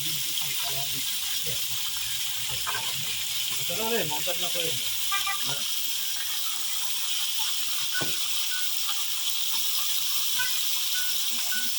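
Meat with onions sizzling in a hot frying pan while cooking Uzbek kavurma shurpa, a steady broadband hiss throughout with a few clinks and faint voices in the background.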